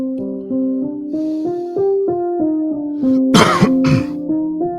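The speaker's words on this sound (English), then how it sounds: "Trying to clear my throat." Coughing and throat clearing from someone close to the microphone: two harsh, bursty coughs come about three-quarters of the way through, over steady tonal background music.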